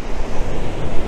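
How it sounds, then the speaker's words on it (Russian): Wild open ocean surf beside a mountain-ringed shore, a loud continuous roar of breaking waves with wind buffeting the microphone, no voices. "Это дикий океан за моей спиной."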